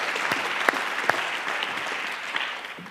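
Applause from an audience at an evening campaign town hall event in New York, honoring the staff; steady, moderately loud clapping throughout with a few sharper individual claps standing out.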